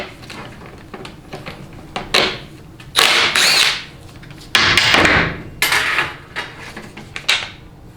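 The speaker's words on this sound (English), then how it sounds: "we'll go ahead and remove the nut here for the selector, 15 millimeter" A 15 mm selector nut comes off a failed Ford 6R140 remanufactured transmission during teardown, with bursts of ratchet clicking and sharp metallic clanks and taps, loud and close, separated by brief pauses.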